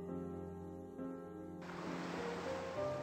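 Gentle sea waves wash onto a sandy shore in the video game Endou-san, a soft, quiet rush of surf that swells into a broader hiss partway through, with faint tonal game music underneath.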